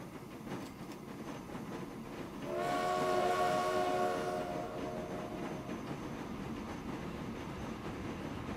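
Trains running in the video game Transport Fever: a steady rolling rumble with a loud horn blast swelling near the start and fading, then continuous rail noise, no talking.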